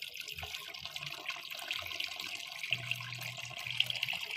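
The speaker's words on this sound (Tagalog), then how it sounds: "Tapos ilalagyan ulit natin siya ng tubig." Water running from a tap into a container, a soft continuous splashing and trickle heard fairly close, with faint low household noises underneath.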